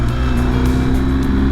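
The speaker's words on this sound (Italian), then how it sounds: "utilizzo molto il freno motore perché con la moto pesante non voglio stressare i freni" Heavy motorcycle engine braking on the road, a continuous deep droning engine note with steady low harmonics and a wind-rushing hiss, held at an even, loud level with no gaps.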